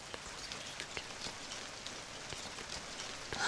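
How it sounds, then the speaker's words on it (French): Steady rain patters on leaves, a soft continuous hiss broken by scattered close drips and faint taps, unbroken throughout with no voices. "ça, c'est la pluie sur les feuilles, ça"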